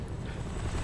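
Helicopter rotor and engine noise in the video game Kane & Lynch 2, a steady low thrumming drone that stays loud and close for under a second with no voices.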